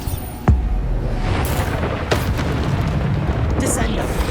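Bombarda spell explosions in Hogwarts Legacy during a busy spell fight: a sharp booming burst, then a sustained rumble with further cracking impacts and spell effects layered close and loud.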